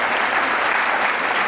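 Audience at a school academic awards ceremony clapping, a dense, even burst of applause that stays loud for the whole short stretch.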